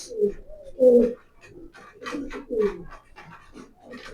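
Racing pigeons coo repeatedly in a close, fairly loud series of throaty, rolling calls with short pauses between bursts, the birds heard alone with no talking.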